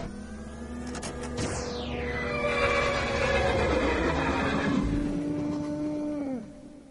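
A horse neighs as a sound effect, one long whinny that rises and then falls in pitch over several seconds, fairly loud and alone.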